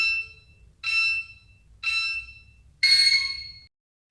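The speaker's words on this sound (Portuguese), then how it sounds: "E agora repassa para o intervalo de 15 segundos. Vai bipar nos 3 últimos conforme configurado." An LED smart timer panel counts down the last seconds of an interval with four electronic beeps about a second apart, the final tone longer and brighter, all clear and close.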